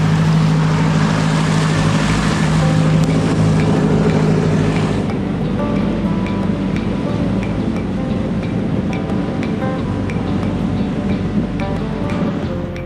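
A motorboat engine drones steadily at close range while trolling, a dense continuous rumble mixed with water rush, without any pause.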